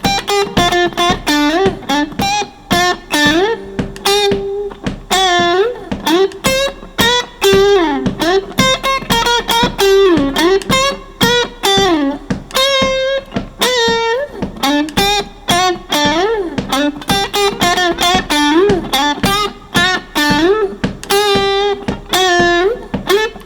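An electric guitar plays a funky lick in D through effects and distortion: choppy, rhythmic muted strums mixed with sliding, bending single notes. The pattern repeats continuously, loud and close, with no talking.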